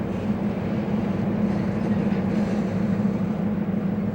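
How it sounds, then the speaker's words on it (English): A pair of Wabash switcher locomotives hauling a caboose across New York Central tracks toward a rail yard, a steady low rumble and rolling drone at moderate distance with no voices. "A pair of Wabash switchers and a caboose are crossing the NYC to Pileman Yard to pick up a few"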